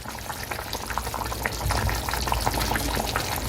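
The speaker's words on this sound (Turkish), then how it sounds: "Yemeğimiz kaynamaya başladı." A cauliflower dish bubbles vigorously in a covered pot, a dense crackling, popping boil that grows slightly louder partway through, close up with no one talking.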